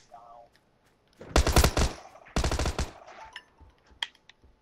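Video game gunfire in rapid automatic bursts, two loud dense volleys back to back followed by a few scattered shots, with brief quiet stretches around them.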